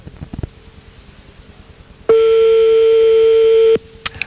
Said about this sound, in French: C'est bon quand ça sonne longtemps comme ça.